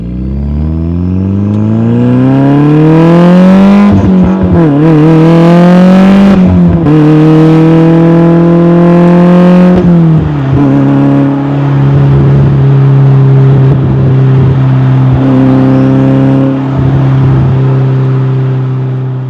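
A 700HP Mitsubishi Lancer Evo engine revs hard and close through several rising gear pulls, with sharp shift breaks and a throaty, clattering exhaust, then settles into a loud, steady drone while driving.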